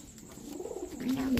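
Soft, low pigeon coos murmur faintly beneath background noise at a pigeon seller's, with one clearer sustained coo rising toward the end.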